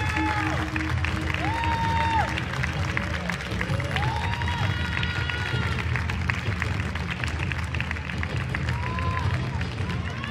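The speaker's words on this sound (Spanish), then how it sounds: "Fuerte los aplausos para despedir a Mister San Luis." An audience at a regional-costume pageant for Rey México 2023 keeps up steady, dense applause and crowd noise throughout, with amplified voices and music-like tones faintly layered over the clapping.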